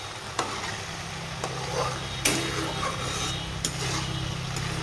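Tomato chutney being stirred as it cooks down in a pan, soft scraping and sizzling with a few sharp spoon knocks against the pan, close and steady.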